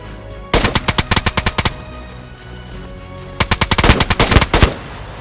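Enemy gunfire in DayZ on the Namalsk map comes in two loud, sharp bursts of rapid shots, about a dozen each, separated by a quiet pause of a few seconds.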